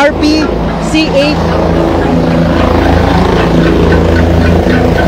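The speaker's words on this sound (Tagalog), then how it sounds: "nasasaksihan na natin ang pagdating ng helicopter na sinasakyan po ni DILG Secretary Benhar Abalos Jr" A helicopter with tail number RPC-8908, carrying the DILG Secretary, arrives and lands in Marinduque. Its loud, steady rotor and engine drone fills the whole clip.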